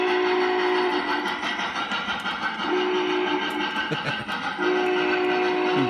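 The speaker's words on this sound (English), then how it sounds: "the whistle was a little pull cord that they've got that you pull down" A model train whistle, worked by a pull cord, sounds in steady sustained blasts over continuous rumbling and rattling of the moving train, with a brief gap midway before the tone returns.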